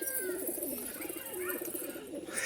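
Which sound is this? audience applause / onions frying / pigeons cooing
pigeons cooing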